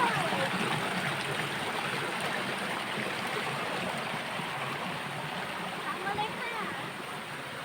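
A waterfall and stream flowing steadily in a forest during a mushroom-hunting walk, a loud, constant rushing wash of water with no pauses.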